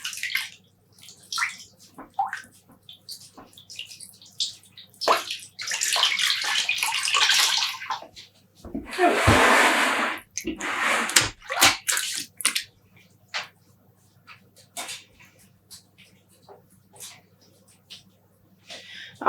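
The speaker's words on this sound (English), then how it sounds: "I'm going to add a little bit more water to it." Water poured from a vessel into a pan holding yarn skeins for home dyeing, bursts of splashing and trickling, with one louder sustained pour in the middle and small drips and handling noises between.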